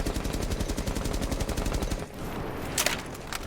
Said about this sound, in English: If I shoot the gun again, you'll see it does the exact same thing.